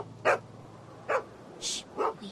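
A dog barks in a Walking Dead season 2 video game scene: three or four short, sharp yips spaced about a second apart over a low steady hum, fairly close and alone without talk.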